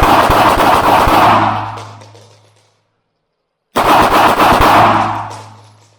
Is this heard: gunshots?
yes